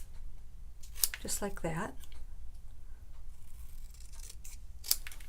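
Scissors snip through Christmas card paper while trimming a Be Jolly piece for a fun-fold card, a couple of crisp close cuts around a short spoken phrase.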